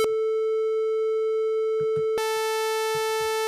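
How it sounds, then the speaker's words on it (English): A signal generator puts out a steady, loud triangle wave tone, and its timbre turns brighter and harsher partway through, with faint low thumps in the background. "Here's the triangle wave."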